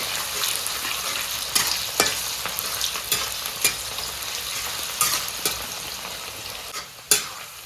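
Onions, chilies and whole spices such as cloves and cardamom fry in a hot pan with a constant sizzle and repeated sharp scraping strokes of a stirring spoon, up close.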